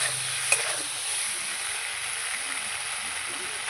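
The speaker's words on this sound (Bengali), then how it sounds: "কিছুক্ষণ আমি কষাবো কষানো হয়ে গেছে আমার" Masala for a fish curry with potato and green banana sizzles steadily in a pan, a constant close hiss with a brief clink near the start; faint speech sits under it.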